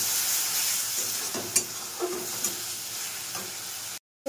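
Prawn bhuna masala with yogurt and spices is stir-fried in a pan, a steady loud sizzle broken by a few scrapes of the spatula, close up, ending in a short cut to silence.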